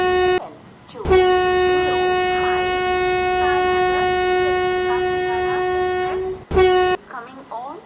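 A train at an Indian railway station platform sounds long, loud horn blasts near by, with a rumbling undertone and short further toots, while voices and station bustle carry over the top.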